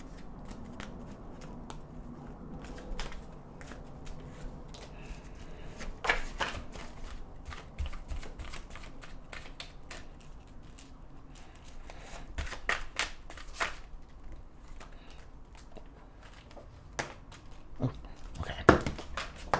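A deck of tarot cards is shuffled by hand in repeated riffling, slapping bursts, close and crisp, with no speech.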